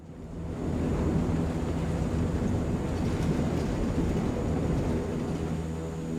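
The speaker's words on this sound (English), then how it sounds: "And all we're going to do is execute a standard water takeoff here." CL-415 water bomber taking off from water in Microsoft Flight Simulator, a dense steady roar of engines and rushing water at full power, loud and unbroken after a quick rise.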